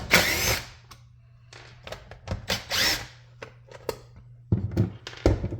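A power screwdriver takes screws out of a Miele S7 upright vacuum in several short, close whirring bursts, separated by brief pauses and quiet clicks.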